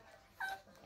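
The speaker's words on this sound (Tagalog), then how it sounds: "Aso namin oh." A dog gives a single brief, high whimper, faint and thin against a quiet household background, with no talk during the sound.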